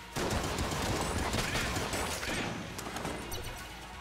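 A Mine Cutter gun with triple shot and super-fast reload firing rapidly in Enter the Gungeon, a dense, continuous crackle of shots that gradually thins out toward the end.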